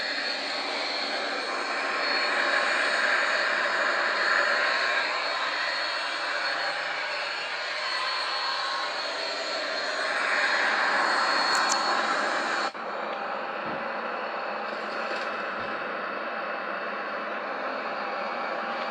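Boeing 737-800 jet engines drone in the X-Plane flight simulator, a loud steady broadband roar that swells gently in waves before dropping to a slightly quieter level partway through, with no talk.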